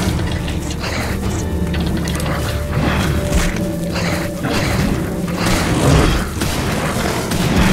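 Video game combat in The Incredible Adventures of Van Helsing, with gunshots and explosive booms thudding in a dense, continuous battle mix, several heavier impacts standing out amid clattering mechanical effects.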